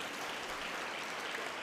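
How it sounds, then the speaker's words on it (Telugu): A church congregation breaks into sustained applause during a sermon, a dense, even patter of many hands clapping together at a steady level throughout. "చప్పట్లు కొట్టండి ఒకసారి."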